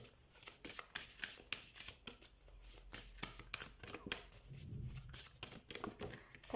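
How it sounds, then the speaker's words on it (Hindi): Tarot cards being shuffled by hand at close range, a steady run of quick papery riffles and flicks lasting several seconds with no talk over it. "अभी मैं शफल ही कर रही थी"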